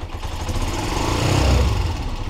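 A Honda TMX 125 Alpha motorcycle with hard-starting trouble being push-started, its engine catching into a rough, loud close idle that swells slightly before easing off.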